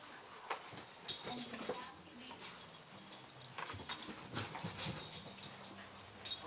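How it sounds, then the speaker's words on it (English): A dog whimpers and pants close by in short, uneven bursts, with faint rustling and a brief low voice in the background. "Good doggy, Pepper."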